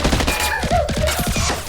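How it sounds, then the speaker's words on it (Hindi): Automatic gunfire from a climactic shootout scene in the Tamil action film Thuppakki, with a loud, rapid burst of repeated shots and a voice speaking over it. "अंधाधुंध फायरिंग कर रहे हैं। उनके पास सबके पास ऑटोमेटिक है गन।"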